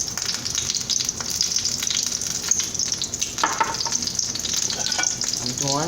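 An egg omelet with tomatoes and cheese fries in a hot pan, a steady loud sizzle running throughout with occasional scraping and stirring clatter near the end.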